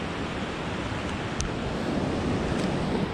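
Mountain waterfall on the Annapurna Circuit in Nepal, a dense, even rushing roar close by with no voices.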